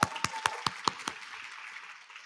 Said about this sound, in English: All Black females, clap your hands.